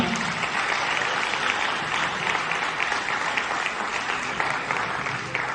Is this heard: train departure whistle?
no